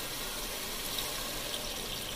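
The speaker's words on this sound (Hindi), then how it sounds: "तकरीबन 1 गिलास पानी डाल रही हूँ मैं, ताकि हमारे आलू और मटर गल।" About a glass of water is poured onto frying peas and potatoes in a pan, giving a steady, faint, even hiss of flowing liquid for the whole stretch with no speech.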